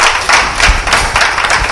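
A congregation bursts into applause for a pastor, bright rhythmic clapping from many hands filling a church hall, steady and loud with faint cheering mixed in.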